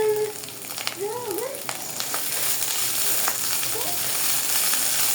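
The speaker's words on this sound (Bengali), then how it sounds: "আমি এখন ভালো করে ভেজে নিব। আমার প্রায় ভাজা ভাজা হয়ে গেছে।" Dried shrimp frying in a pan, a steady close sizzle with faint stirring scrapes running throughout, with no speech.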